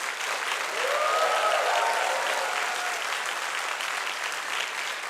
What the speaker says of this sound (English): May I therefore likewise request for you to applaud them with the best and the most heartfelt cheers that you can muster